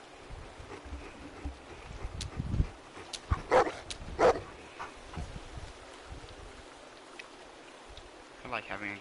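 A dog whimpers and gives a few scattered barks at moderate distance over a low background hum, with a person talking intermittently.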